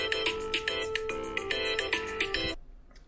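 A mobile phone ringtone plays loud and close, a bright repeating melodic pattern of tones for about two and a half seconds before cutting off abruptly into quiet room noise.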